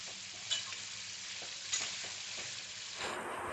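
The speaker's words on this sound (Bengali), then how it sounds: "এবার গাজর আর বিনস আমি ভালো করে ভাজা করে নেব।" Carrots and beans fry in a pan for egg fried rice, a loud steady sizzle close up with several scraping stirs of a spatula and no voices.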